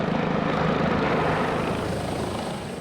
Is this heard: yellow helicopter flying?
yes